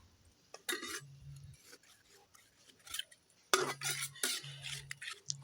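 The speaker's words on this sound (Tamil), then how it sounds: "நல்லா வந்து வதக்குங்க மீடியம் ஃப்ளேம்லேயே வைங்க" Greens and lentils are stirred and sautéed in a pan over medium flame. A spoon repeatedly scrapes and clinks against the metal pan, soft and close, in short intermittent strokes.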